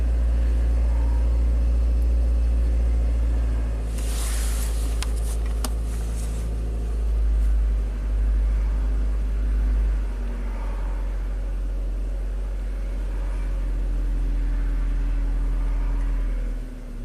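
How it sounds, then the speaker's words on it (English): A Chevy Captiva with a direct-injection GDI engine, running after an engine swap with a high fuel pressure fault, gives a steady deep rumbling drone. A brief, brighter burst comes early, while the low engine note stays fairly even throughout. "rev it up a little bit"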